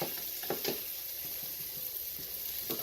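Garlic sizzles in a pan for a chicken mushroom risotto, a steady close frying hiss with a few soft stirring taps and scrapes.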